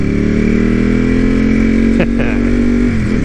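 A Ducati L-Twin motorcycle engine roars loudly inside a tunnel, with a sustained, booming drone and a brief sharp rev surge near the end.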